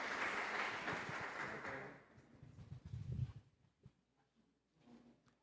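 Applause from an audience at a catechesis conference, moderately loud for about two seconds and then dying away into scattered claps and room noise.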